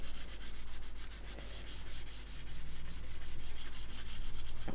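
Trizact abrasive is worked with plenty of water over metallic paint on a scale model, giving close, quiet, rhythmic rubbing strokes in a steady back-and-forth pattern.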